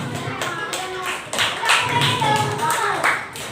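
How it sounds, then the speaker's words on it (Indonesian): Children clap in a classroom lesson, a brisk patter of small hands that swells and holds steady for a few seconds, with a teacher's voice faintly underneath. "beri tepuk tangan kepada Akila."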